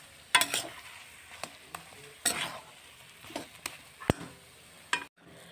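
Mashed potatoes are stirred and fried in a pan, with scattered scraping strokes and knocks of the spoon over a faint quiet sizzle.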